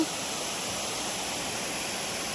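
Water rushes steadily at a waterfall and stream on a hiking trek, a dense, continuous roar with no breaks, loud and close, without any voices.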